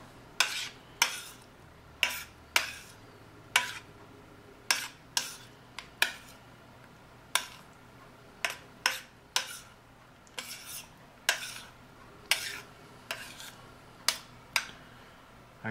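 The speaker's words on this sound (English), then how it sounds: "Stir it around here a little so it'll cool." A spoon stirs a bananas Foster mixture in a pan, giving a steady series of sharp metallic clinks and scrapes about once or twice a second over a faint background hum.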